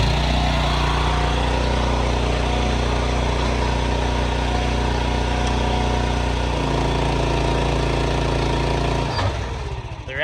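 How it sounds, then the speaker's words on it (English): A Kubota tractor engine runs close and steady at a low mid-pitched rumble as it approaches a bale wrapper handling dry rye bales, shifting tone partway and dropping off near the end. "So as the tractor approaches"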